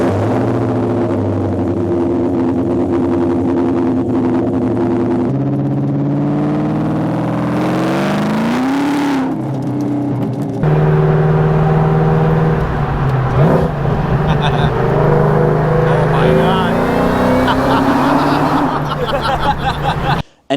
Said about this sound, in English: Bassani really makes a nice exhaust